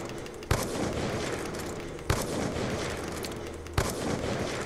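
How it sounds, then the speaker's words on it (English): DSR-50 sniper rifle fired in a first-person shooter game, three sharp loud shots evenly spaced about every 1.6 seconds over steady background game noise. "this is how fast you can shoot it regularly"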